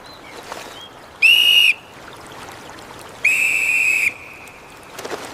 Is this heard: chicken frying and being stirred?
no